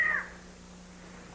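A single short, faint cat meow at the very start, fading quickly into a quiet indoor room hum.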